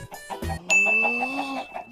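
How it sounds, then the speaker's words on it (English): Chickens in a Minecraft-style animation cluck in short cartoonish bursts, mixed with bright chime-like tones and a rising squeal over about two seconds. "Chickens!"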